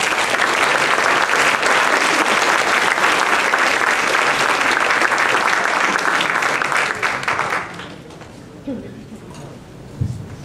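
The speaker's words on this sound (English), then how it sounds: "Everybody give him a round of applause." Audience applause for a student debate speaker at a class debate, a dense, loud and steady clapping that fills about seven seconds before thinning out into scattered claps and room noise.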